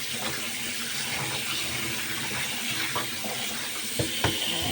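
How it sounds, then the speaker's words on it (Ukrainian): Running cold tap water splashes steadily over asparagus, a continuous close hiss with a couple of brief louder splashes near the end. "її треба обдати дуже холодною водою"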